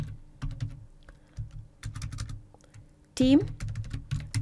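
Computer keyboard typing in quick bursts while composing a plain-text email body, with the speaker's voice talking over the keys and a sharp, bright tonal blip near the end.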